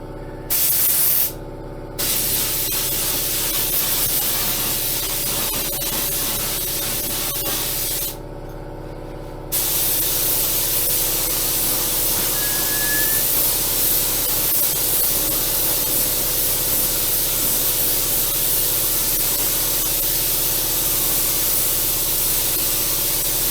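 Spray gun painting Scania 143H V8 truck parts such as the seat bracket and doors, a steady loud hissing spray running almost continuously with two brief pauses, no talk.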